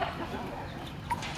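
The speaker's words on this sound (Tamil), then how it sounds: "அதே மாதிரி நம்மக்கிட்ட சேவல்ஸ்லாம் நிறையா இருக்குது" A Peruvedai-breed rooster clucks faintly in the distance, a brief soft call over quiet background noise.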